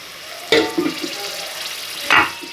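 Loud sizzling bursts as tomatoes hit a hot pan for a peas and egg curry, followed by a softer crackle and a second sharp sizzle.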